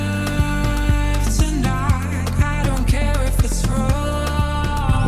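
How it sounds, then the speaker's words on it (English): Afro house groove built on a simple saw bass preset with added saturation and filtering, a dense, warm low line pulsing steadily under layered synths and percussion, loud and continuous. "I just took a very simple preset, like a saw bass, added some saturation here"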